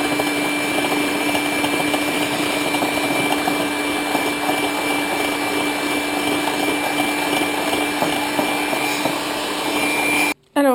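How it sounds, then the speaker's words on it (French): An electric mixer whips egg whites with sugar in a steady, loud whirring drone that holds unbroken for about ten seconds before cutting off abruptly near the end. "je monte le blanc d'œuf en neige avec du sucre"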